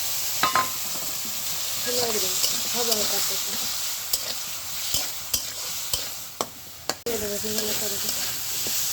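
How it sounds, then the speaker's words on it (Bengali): Chopped tomatoes fry in hot oil in a karahi, giving a steady close-up hiss and sizzle. Sharp clicks and scrapes from stirring break in now and then, and a faint voice is heard in places. "টমেটোগুলো ভেজে নেব একসাথে"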